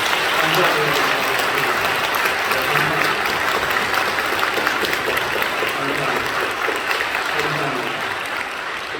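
Church congregation applauding together at a Sunday worship service, a steady, sustained wash of many hands clapping for the full length, fairly loud and even, with faint voices underneath.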